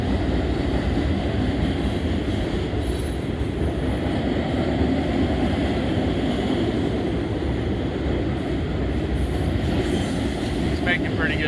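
A mixed freight train rolls past at a steady clip in Oak Harbor, Ohio, a loud, continuous rumble and rattle of wagons that holds throughout, with a faint squeal near the end.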